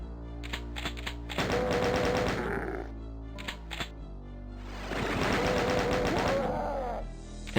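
Chaingunner firing in Doom 64, two bursts of rapid mechanical gunfire with a rattling, typewriter-like cadence, the second burst louder, over a low constant game hum and scattered clicks.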